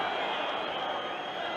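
Old Trafford football crowd at a Manchester United v Manchester City match, a dense, steady, loud roar of massed voices screaming for a winner, continuous throughout the short stretch.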